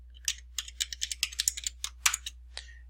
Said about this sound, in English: You could also type that in by hand,